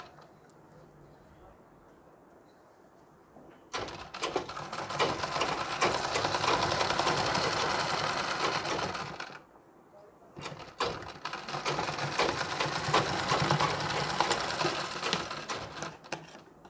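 Sewing machine stitching blouse pieces for a one-year-old's Nauvari saree blouse, running in two long bursts of steady, close mechanical whirring separated by a short pause, with quiet room tone before the first run.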